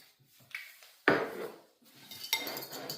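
Whisk clinking against a bowl while beating a mixture with white truffle olive oil, with sharp metallic taps and scraping strokes coming in short, irregular bursts close by.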